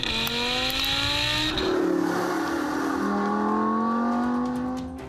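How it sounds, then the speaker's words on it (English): A naturally aspirated Audi R8 sports car engine revs hard and loud, pitch climbing through a rise, dipping, then climbing again in a sustained howl with no talking. "This Audi R8 has a sound like no other."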